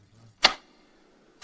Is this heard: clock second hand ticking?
yes